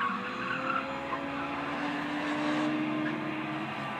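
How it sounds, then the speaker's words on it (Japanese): A Mazda RX-7 race car in a timed heat at a motorsport event, heard as a steady, fairly distant engine drone with tire skidding and squeal running throughout, no talk. "さあ今10番の平野選手が走行中です"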